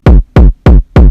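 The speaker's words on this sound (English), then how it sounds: "So this is actually how the kick originally sounds." An unprocessed kick drum sample hits four times in steady succession, each a punchy, booming thump with a short decay, loud and dry.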